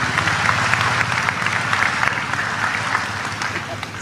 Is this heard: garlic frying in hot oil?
no